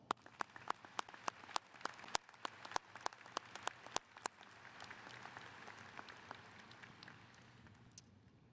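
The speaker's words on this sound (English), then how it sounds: "Please join me in celebrating them with a round of applause." A small crowd at a high school graduation applauds at a distance, sharp individual claps standing out early before the clapping blends into a softer patter and fades.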